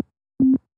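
One short, low electronic beep, steady and clean, sounding alone after a brief soft tick.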